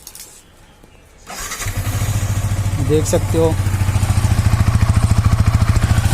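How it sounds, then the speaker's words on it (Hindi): A Yamaha R15 V3 BS6 motorcycle starts up with a brief cranking whirr and catches, then settles into a close, loud, evenly pulsing idle exhaust note while someone speaks briefly. "एक मैं इसका एग्जॉस्ट नोट सुना देता हूँ आपको"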